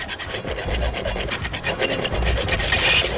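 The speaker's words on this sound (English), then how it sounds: "The saws, though, can't cut through the chains" Saws scrape back and forth against metal chains in a scene from the horror film Saw, a close, rough, rhythmic rasping that runs steadily with a grinding buzz and no voices.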